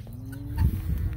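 Cattle on grazing pasture, with soft, low animal sounds and a faint insect-like buzz close by and no talking.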